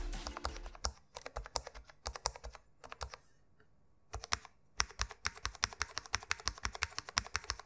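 Rapid, muted keystrokes on a Cooler Master SK630 mechanical keyboard with O-ring dampeners, soft and damped, in steady bursts with a short pause midway, no voices.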